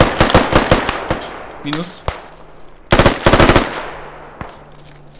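Bursts of automatic gunfire from the Squad military shooter game, loud rapid volleys in two clusters with single shots between, while players talk over the shooting.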